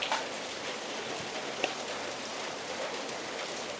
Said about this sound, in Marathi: तर पाऊस मस्तच लागता.